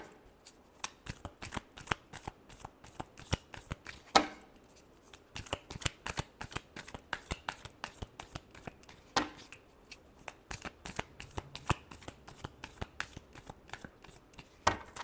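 Tarot cards being shuffled by hand, a long run of quick crisp riffling slaps in uneven bursts, close and fairly soft, with no talking.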